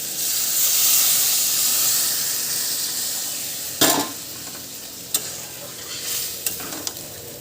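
Ash gourd greens sizzle loudly in a pan, then water goes in, bringing a hissing steam burst followed by a few sharp knocks of a utensil as the hiss slowly fades, close by and without speech.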